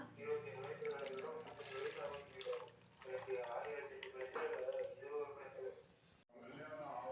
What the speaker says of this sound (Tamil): இந்த மாதிரி கொஞ்சமாக தண்ணி ஊற்றி